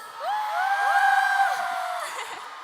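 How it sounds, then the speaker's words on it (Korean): An outdoor crowd at a K-pop festival in Incheon cheers and whoops, with high sustained shouts and screams rising and falling over a steady roar, moderately loud and continuous. "여러분들도 최고의 함성을 들려주실 준비 되셨나요?"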